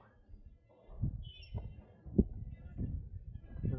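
Wading birds at Wakodahatchee Wetlands give a few harsh squawks and calls at close range, scattered irregularly over faint outdoor background.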